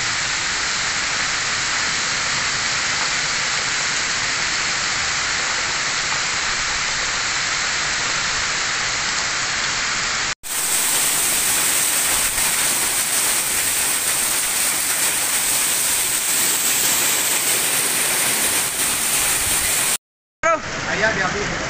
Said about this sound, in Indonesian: Anginnya kencang-kencang.